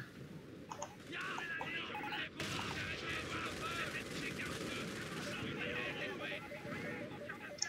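Dense, continuous rattle of gunfire with heavy bursts and mortar blasts from a Company of Heroes 4v4 battle, sustained at steady loudness with voices talking over it.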